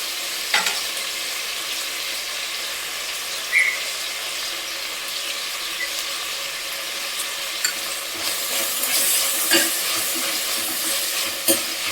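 Tomatoes fry with a pinch of turmeric in a pan, a constant crackling sizzle with a few louder clicks of stirring against the pan, growing a little busier toward the end.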